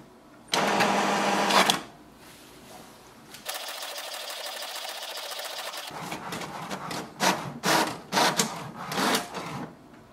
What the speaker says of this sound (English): So this way we can do the printing.